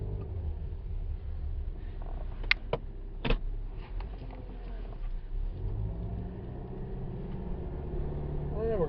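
A 2011 Subaru Legacy drives straight down a road, giving a steady low engine rumble and road noise from inside the cabin, with a few brief clicks and knocks partway through.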